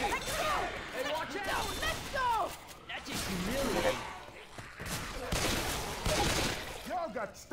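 Gunfire from a multiplayer shooter video game with explosive rounds and grenades, rapid bursts and sharp cracks recurring throughout amid clattering impacts, with excited voices talking over the shooting.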